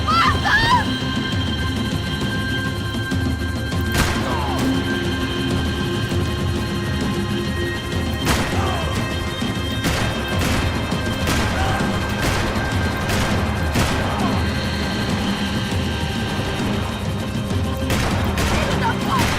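Gunfire in Max Payne 3 on PC, sharp shots cracking out at irregular intervals over a dense, continuous bed of game noise and music, with voices shouting during the firefight.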